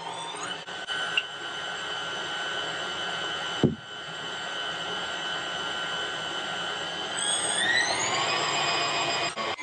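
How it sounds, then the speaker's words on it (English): A KitchenAid stand mixer runs continuously, mixing flour, sugar, yeast and kosher salt in its bowl, producing a steady whirring motor hum with a brief clunk partway through and a slight rise in pitch toward the end. "We're going to turn the machine on and mix the ingredients."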